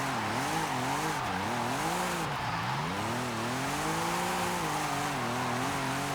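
An Audi RS5 drifts in Forza Horizon, its engine note rising and falling in sweeping revs through steady tire squeal, loud and continuous with no gaps.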